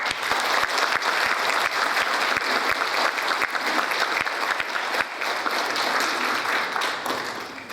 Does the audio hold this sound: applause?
yes